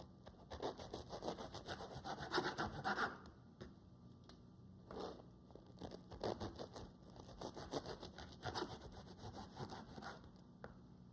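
A knife saws through a loaf of bread to make slices for bruschetta: repeated close, scratchy back-and-forth strokes in bursts with short pauses, quiet and without talking.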